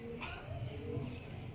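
A pigeon coos in low, soft repeated notes among a loft of tail-breed pigeons, faint and close, with background noise and some voice.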